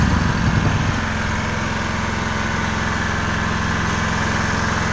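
A pull-start generator settles into a steady idle after starting, a loud, even mid-low engine drone with a slightly rougher burst in the first second, running alone without talk.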